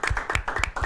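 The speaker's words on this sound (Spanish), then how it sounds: "Un aplauso, de verdad," Scattered hand claps from a small audience at an education ministry arts gala, a few sharp irregular claps over under a second, fairly close.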